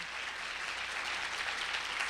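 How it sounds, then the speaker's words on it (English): An audience at a children's champions award event gives a performer another round of applause, an even, steady wash of clapping held at moderate level from start to finish. "Can we give him another round of applause?"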